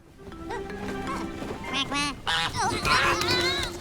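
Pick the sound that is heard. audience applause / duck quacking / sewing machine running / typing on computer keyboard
duck quacking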